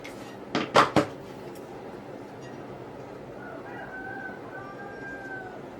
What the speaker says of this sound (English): I don't know if you could hear that, my rooster.